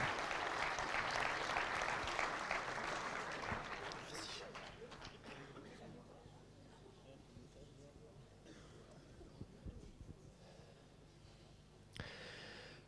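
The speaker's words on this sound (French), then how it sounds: "On peut les remercier et les applaudir déjà pour leur prestation." An audience applauding two students at an agricultural climate-adaptation event, a dense wash of clapping that starts strong and gradually thins and fades over about twelve seconds, with a few scattered claps near the end.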